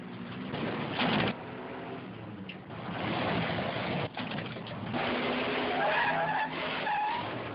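A car skids through a movie chase scene from a classic car chase trailer, with loud sustained tire screeching and engine roar and a few brief breaks and bumps between bursts.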